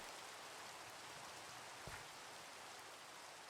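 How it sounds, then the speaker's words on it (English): Rain falls steadily in the video game Minecraft, a soft, even hiss of drops with no distinct rhythm and a single faint tap near the end, no voices over it. "I don't know how you guys feel about the sound of rain."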